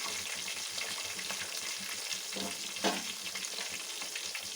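Semolina (rava) cooking in a pan over a low flame, a steady soft sizzle throughout with a couple of brief scraping stirs near the middle.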